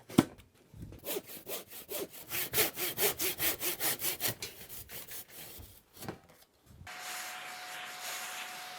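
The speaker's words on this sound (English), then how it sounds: "By scoring the top surface of the panels with a trimming knife allows me to get a smoother cut when using a handsaw." A handsaw cuts through a wood slat panel scored beforehand with a trimming knife, giving a close, rhythmic series of rasping back-and-forth strokes that slow and stop, followed by a steady soft hiss.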